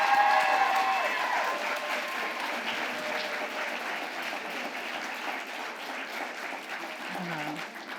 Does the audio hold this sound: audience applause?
yes